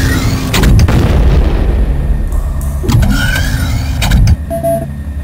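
Bombs drop and blow up in Shadow Warrior on the Floating Fortress level, giving loud, close, booming blasts over a constant rumbling engine drone, with several sharp impacts spaced across the moment.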